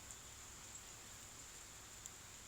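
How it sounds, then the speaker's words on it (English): Soft, steady hiss of light rain, faint and even throughout, with a few tiny drips standing out now and then. "it's raining a bit."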